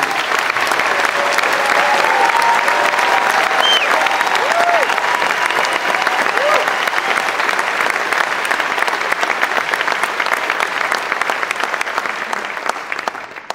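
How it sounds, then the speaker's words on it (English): A large audience claps loudly and continuously, a dense sustained applause that holds steady for most of its length and tapers off slightly toward the end, with faint voices and a few cheers mixed in. "applause"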